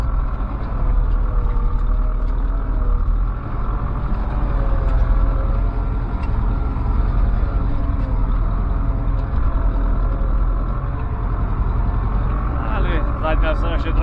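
Tractor pulling a manure spreader across a muddy field, a loud steady engine drone with continuous mechanical rumble throughout and a faint rattling near the end.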